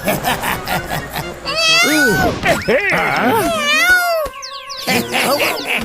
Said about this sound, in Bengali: বিড়াল মার খাচ্ছে।